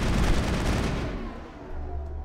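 A rapid burst of automatic gunfire from a weapon in the video game Mass Effect crackles steadily for about a second, then the shots cut off and a low rumble lingers with faint tail noise.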